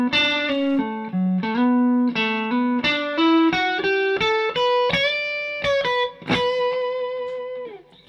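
Electric guitar played with effects and heavy reverb runs a pentatonic, natural-minor arpeggio lick, a steady series of clear picked notes stepping up and down, ending on a sustained note that rings out into the reverb tail.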